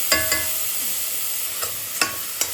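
Grated coconut roasts in a pan for coconut payasam, a soft steady sizzle broken by several sharp scrapes of a spoon stirring against the pan.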